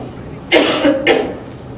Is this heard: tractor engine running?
no